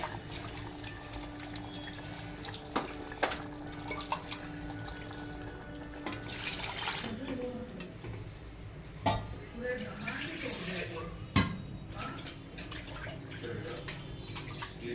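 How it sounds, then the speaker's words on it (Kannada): Water runs and splashes from a tap in bursts, with clattering dishes and occasional knocks, close by; a voice speaks intermittently over it. "ಇದೆಲ್ಲ ತೊಳೆದ ನಾನು ನೀರು ಹಾಕ್ತೀನಿ"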